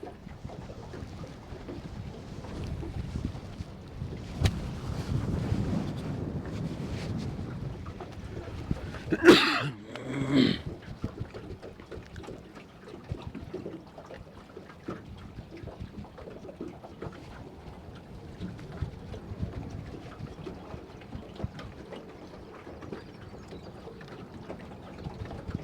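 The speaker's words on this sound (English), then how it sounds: "This wind" Wind buffets a microphone out on a fishing boat in March, a steady low rumble and roar throughout with a stronger gust burst near the middle, loud and close, no talking.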